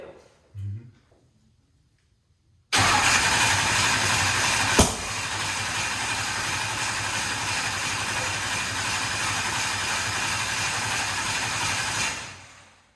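An engine with an air bubble in its fuel system cranks, then catches and runs loud and steady at close range with a rough hiss, before cutting off near the end after a brief quiet start.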